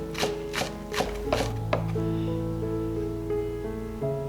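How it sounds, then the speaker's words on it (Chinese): A knife chops scallion leaves on a board in a home kitchen, a few quick crisp strikes in the first seconds over a steady background hum, then the chopping stops. "把葱叶切碎。"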